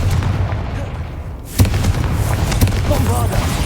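A Confringo spell explodes in the Hogwarts Legacy video game, with a sharp burst followed by a run of crackling pops and booms over a low rumbling game soundtrack.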